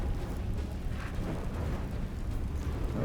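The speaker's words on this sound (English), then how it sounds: "then we blast. Eldritch Blast." An Eldritch Blast spell in Baldur's Gate 3, heard as a steady roaring rumble with crackling bursts that holds loud and unbroken for about three seconds, no voices over it.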